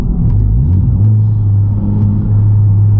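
A tuned Honda Civic Type R engine pulls hard under acceleration, a loud, steady, close-up rumbling drone with rising tone and no talking.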